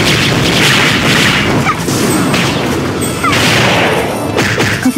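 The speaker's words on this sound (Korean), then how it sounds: "오늘 포격 개시." Artillery bombardment from Tina's skill in the game Closers, a loud, continuous barrage of heavy booms and crashing impacts that overlap without pause.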